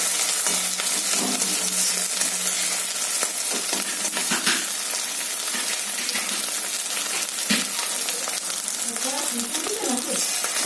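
Food frying in a pan, a dense continuous sizzle with occasional stirring scrapes and faint background voices.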